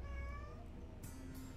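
A cat meows once, fairly faint, over a low background hum, followed by a couple of soft rustling sounds.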